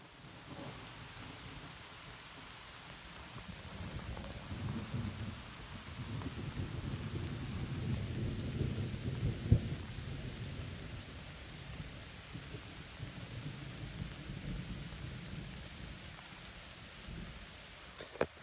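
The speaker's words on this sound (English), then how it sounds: "Pretty heavy thunderstorm, but seems fairly isolated, and I think it'll blow through pretty quickly." Heavy thunderstorm on the Appalachian Trail: steady rain falls through the forest trees while low thunder rumbles, swells and fades, with one sharp crack midway and no voices.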